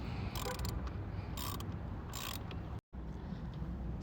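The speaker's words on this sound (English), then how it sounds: "This is a 10mm socket that I'm using." A 10mm socket ratchet loosens a bolt in a 2015 Mercedes CLA 250 4MATIC, giving three short bursts of rapid clicking over a constant loud hiss, close to the listener.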